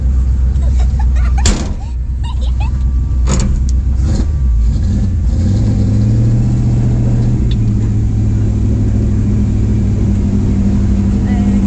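A shop truck engine idles loud and close, with a door thud and a few quick revs early on before it settles into a steady, rumbling idle.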